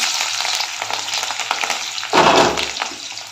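Chilli and garlic hit hot oil in a kadai after cumin and mustard seeds, giving a steady sizzle that suddenly flares into a louder, denser fry as more goes in, with faint stirring.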